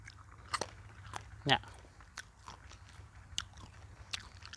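Someone chews ripe papaya and jujube close to the mic, with soft wet bites and a few sharper crunches spaced irregularly, and a voice speaks briefly.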